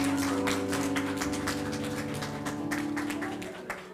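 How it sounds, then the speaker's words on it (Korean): A church youth congregation gives a new student a welcome with a sustained burst of clapping, many hands beating densely and fairly loudly over a low hum before the applause tapers off. "큰 박수로 이렇게 환영해 주시기 바랍니다"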